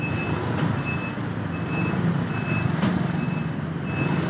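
A trailer truck backing up on a very narrow road, its reversing alarm beeping in a regular repeated pattern over a loud diesel engine rumble, close by.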